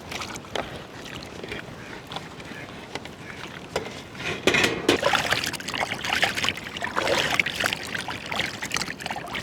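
Running water splashes and trickles while goat meat is washed by hand in a village cooking setting, with irregular sloshing bursts that grow busier and louder toward the end.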